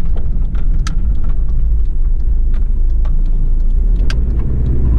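A 1991 Toyota Land Cruiser Prado EX5 LJ78 turbo diesel driving on the highway, a loud steady engine drone and road rumble heard from inside the cabin with brief clicks and rattles.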